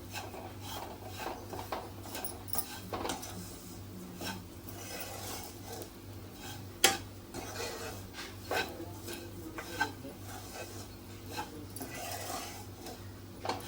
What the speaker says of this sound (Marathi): खोबऱ्याचा सुद्धा कच्चा कच्चेपणा दूर झाला पाहिजे छान भाजून घ्यायचंय